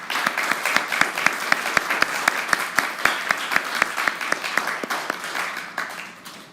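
A church congregation applauds its teachers during a Sunday service, dense rhythmic clapping with some hands landing in near-unison beats, loud and steady before tapering slightly at the end, with no talking.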